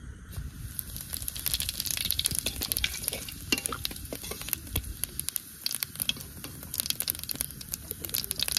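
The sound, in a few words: spices frying in bitter gourd oil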